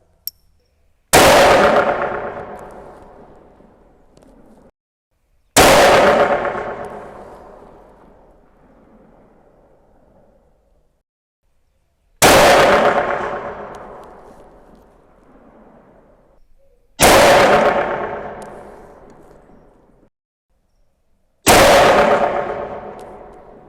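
Five loud, sharp rifle shots from a tuned precision rifle fitted with an EC Tuner and firing CBC ammunition, each crack followed by a long decaying echo, spaced about four to five seconds apart with no talking.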